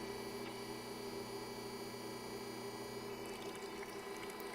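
Oil streams from a filter cart into a sample bottle in a steady, continuous pour under a constant mechanical hum, with the liquid sound growing a bit more textured near the end.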